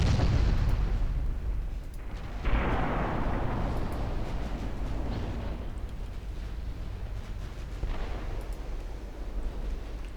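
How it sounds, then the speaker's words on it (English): Warship main guns in the naval game Ultimate Admiral Dreadnoughts fire in heavy rolling booms, a dense rumbling barrage with a fresh blast near two and a half seconds and another near eight, loud and continuous, with no speech. "I can keep my current course and keep the guns firing."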